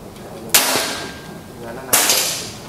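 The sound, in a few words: PCP air rifle shot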